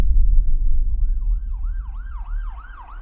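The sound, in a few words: ambulance siren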